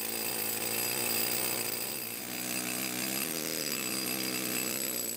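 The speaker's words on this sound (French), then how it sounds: "À l'aide d'un marteau-piqueur, elle perce une ligne de trou pour poser les coins qui vont fendre la pierre." A pneumatic jackhammer drills a line of holes into stone for splitting wedges, a loud, steady, rapid hammering drone that runs continuously without pause.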